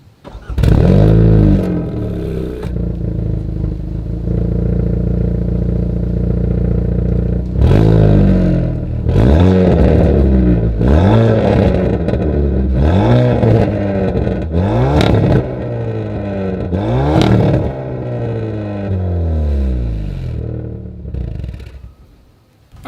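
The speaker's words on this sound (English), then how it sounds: "As always, here is that exhaust clip." A 2021 Hyundai Veloster engine revs repeatedly through a deep dual exhaust, several sharp throttle blips rising and falling over a rumbling idle, loud and close.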